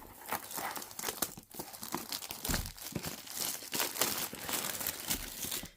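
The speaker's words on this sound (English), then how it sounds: "So you got two packs stuck together. We're gonna rip that apart." Two stuck-together packs of Reynolds Wrap aluminum foil are pulled apart, giving close, quiet crinkling and tearing of packaging in a rapid series of crackles with no talk.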